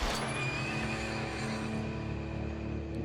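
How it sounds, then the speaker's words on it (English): Horse neighing loudly in a TV drama scene, a continuous whinny with a high tonal line running through dense background score and rumble for about three seconds. "Is that a horse?"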